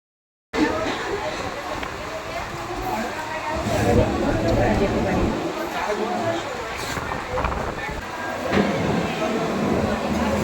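A local train rumbles steadily on the run from Baruipur toward Subhashgram station, with rolling clatter and a crowded carriage babble of voices underneath, loud and continuous throughout.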